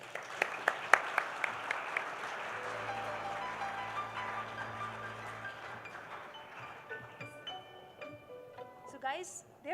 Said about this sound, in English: Professor Jaskiran Arora, can we have a huge round of applause?